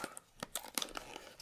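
Flashlight product packaging for a GEARLIGHT two-pack LED set being cut and torn open, with a quick run of close crinkling, ripping and crunching bursts, fairly quiet and with no talk.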